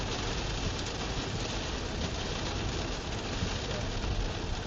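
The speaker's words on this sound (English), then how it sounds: "enjoy the sound of the rain" Steady rain falling during a storm-chasing drive amid a tornado threat in the Midwest, a dense, even hiss that runs unbroken and fairly loud throughout with no voices.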